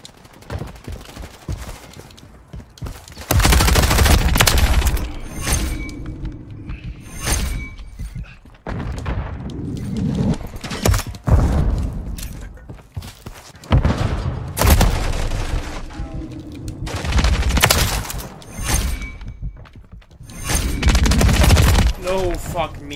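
Gunfire in the video game Call of Duty MW3, repeated loud bursts of rapid shots and impacts separated by brief lulls, close and dominant, with someone talking at times.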